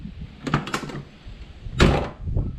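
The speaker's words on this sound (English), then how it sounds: "That is how a Foxbody door is supposed to shut." A Foxbody Mustang car door with a new striker shuts, a couple of nearby latching clunks and rattles followed by one solid thud, with brief handling noises around them and no talking.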